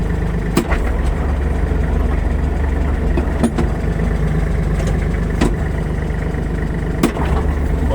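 A Kubota GL32 cab tractor's diesel engine runs as it rolls forward, a steady low hum with a few sharp clicks and knocks.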